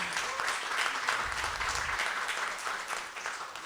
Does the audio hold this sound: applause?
yes